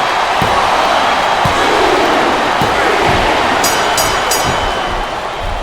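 A loud, dense arena crowd roar from the WWE SmackDown vs Raw 2007 video game fills the whole stretch, with chanting bursts and a few thuds underneath.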